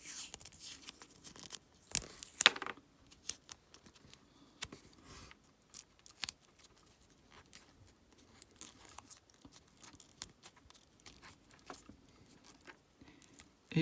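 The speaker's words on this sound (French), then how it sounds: "Même chose, petit coup de scotch." Adhesive tape being torn and pressed down, sealing parts on a Bird Zero electric scooter: sparse, close crinkles, rips and small clicks scattered through a quiet background, with a few sharper tears.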